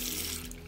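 A hotel bathroom tap runs water in a brief, steady, faint hiss of flow with no voices.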